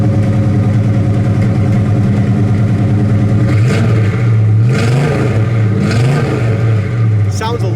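A 1961 Pontiac Catalina with custom dual exhaust idles with a deep, loud burble, then takes several short throttle blips that rise and fall before settling back to a steady rumble.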